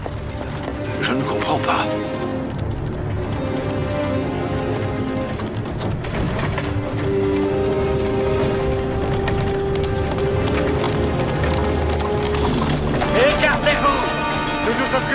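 Horses' hooves clip-clop through a fantasy scene in a kingdom tale, steady hoofbeats running under French dialogue and some musical or clattering background.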